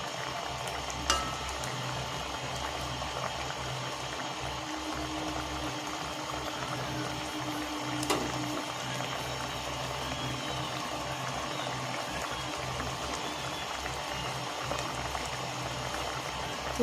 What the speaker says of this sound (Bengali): মাছগুলো একটু ফুটিয়ে নেব ভালো করে